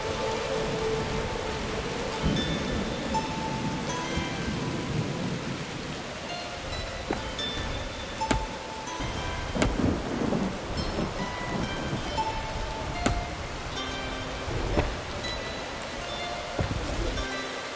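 Steady rain pours throughout a thunderstorm in the video game Dungeons 4, with several sharp thunder cracks and deeper rumbles breaking through the dense wash of falling water; no voices.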